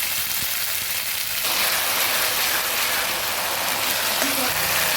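Onion, garlic and ginger spice paste frying in a pan, a continuous loud sizzle filling the whole stretch, close up with no clear talking.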